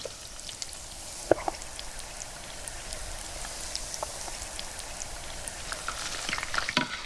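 Seafood frying in hot oil, a dense steady sizzle with scattered crackles and pops, moderately close and continuous, no voices.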